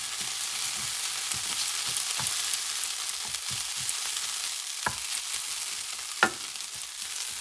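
Arròs negre, black paella, sizzles steadily in a pan while a utensil stirs it with soft scraping taps and a couple of sharper knocks.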